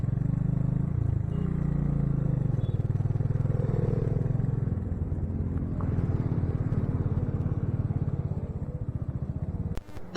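A motorbike engine drones steadily on a hill road near the Dharidevi temple above the river in Rudraprayag, with a low, even rumble that shifts slightly midway before cutting off abruptly at the end.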